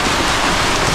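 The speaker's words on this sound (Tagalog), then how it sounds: "Umuulan sa labas." Steady rain hisses outside, a dense even wash of drops that stays loud and unbroken from start to finish, with no voices.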